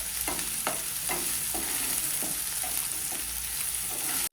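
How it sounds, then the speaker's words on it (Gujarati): Ginger, garlic and chili paste sautéing with onions in a pan, a loud constant sizzle broken by regular scraping stirs of a spoon, close up, ending abruptly. "હવે આપણે આદુ લસણ મરચાંની પેસ્ટ ઉમેરીશું, તેને બરોબર સાંતળી લઈશું।"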